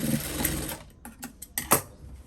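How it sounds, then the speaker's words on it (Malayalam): A sewing machine stitches fabric in a short, quiet burst of fast mechanical whirring, followed by a few separate clicks and taps as the stitching stops. "ഇതുപോലെ ഇങ്ങനെ ഒന്ന് തയ്ക്കുക"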